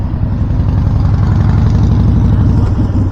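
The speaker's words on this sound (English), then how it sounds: "Got a motorcycle coming through, guys, so gonna hear some rumbling." A motorcycle engine rumbles close by on a street, a steady deep low growl that holds at even loudness the whole time with no talking.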